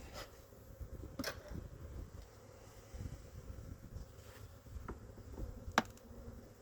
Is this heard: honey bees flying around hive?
yes